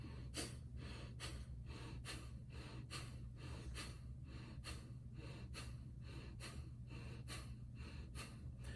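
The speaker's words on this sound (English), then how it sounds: "fire breath is a belly breathing where you're squeezing your tummy in and out" Fire breath belly breathing, with forceful rhythmic exhalations pushed out through the nose as the stomach squeezes in, repeating steadily about twice per second, close and fairly quiet, with no talking.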